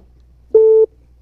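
A telephone line's busy signal, a single steady electronic tone lasting about a third of a second, clear and prominent against a quiet background during a call-in radio or TV show.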